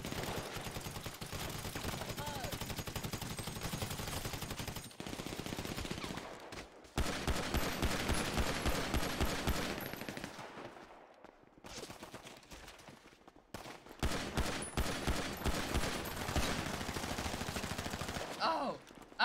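Rapid bursts of gunfire and automatic weapon fire in a GTA shooting match, loud and dense in clustered volleys separated by brief lulls, with a voice talking faintly underneath.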